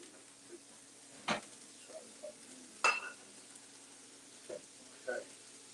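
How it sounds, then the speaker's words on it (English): A pan holding potatoes is deglazed, with a utensil scraping the caramelized sugars off the bottom. Sparse, faint scrapes and clinks sound under a low background hiss, a few of them sharper and louder. "And deglaze some of that, like the sugars from the potatoes off the bottom of the pan."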